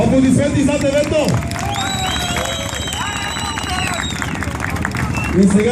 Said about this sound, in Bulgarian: Аплодисменти за АТВ-то!